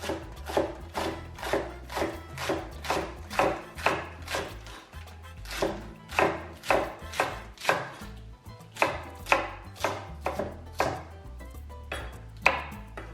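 Coarse lettuce is chopped on a cutting board for a quinoa prawn salad, a quick steady rhythm of knife strikes that falls into short bursts with brief pauses.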